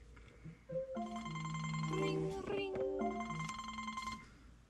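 A phone rings with an incoming call, its bright tonal ringtone melody repeating over about four and a half seconds, steady and fairly loud with no talk.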